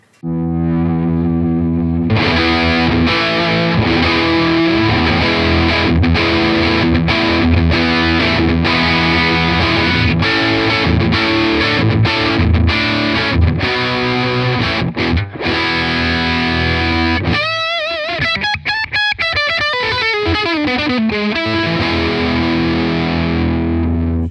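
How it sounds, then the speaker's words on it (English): Heavily distorted Fender Powercaster electric guitar with Atomic humbucking pickup, played through a 30R amp on high gain, plays loud, saturated chords and riffs continuously, ending in a squealing bend with feedback-like harmonics. "now we're gonna take a listen to the atomic humbucking pickup."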